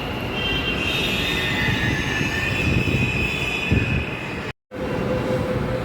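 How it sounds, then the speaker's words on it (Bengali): A Kolkata Metro train pulls into a station, a steady loud rolling rumble with high metallic wheel squeal sustained throughout, broken by a brief dropout near the end before the roar resumes. "মেট্রো একটা চলে আসলো।"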